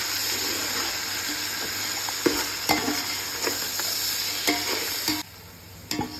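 Onions softening in a pan for Dindigul-style chicken dum biryani, with fresh mint and coriander added, fry with a steady close sizzle, while a spoon stirs through them in scraping clicks and brief clatters.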